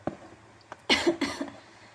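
A person coughs in a quiet indoor room during a software tutorial, several sharp close coughs in quick succession after a few faint earlier throat sounds.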